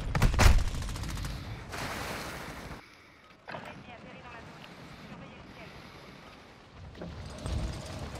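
Gunfire in the video game Warzone 2, with a loud burst of shots up front, then a dense rattling spray, a brief lull and more firing toward the end under steady background noise.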